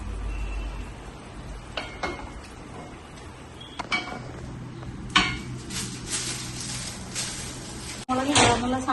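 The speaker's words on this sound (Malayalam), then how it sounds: "ഇത് നമുക്കൊന്ന് ഇളക്കി വെക്കാം." Food stirred in a cooking pot where green chillies have just been added, with intermittent metal scrapes and clinks that grow louder and busier toward the end, close by.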